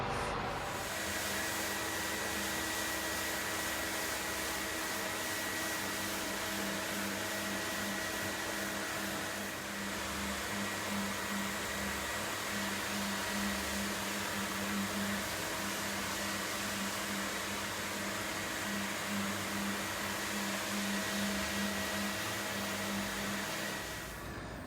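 A floor sanding machine fitted with a Sand Dollar abrasive disc runs as a constant, even, droning whir with a faint steady hum, uninterrupted throughout and free of speech.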